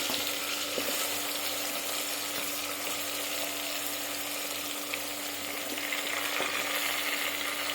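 Drumstick pods drop into hot oil with crackled cumin seeds in a pan, giving a steady, even sizzle that fills the whole stretch with no talking over it.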